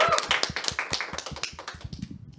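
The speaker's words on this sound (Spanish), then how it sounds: "iniciemos este programa con un fuerte aplauso" Studio audience applauding at the opening of a Catholic talk show, a dense patter of many hands clapping at close range, steady and fairly loud before thinning slightly toward the end.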